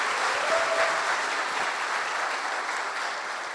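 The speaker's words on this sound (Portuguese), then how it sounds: "gostaria que vocês dessem uma salva de palmas aí para Jesus" A church audience gives a steady round of applause, dense continuous clapping that holds evenly for several seconds and slowly eases off, with no speech over it.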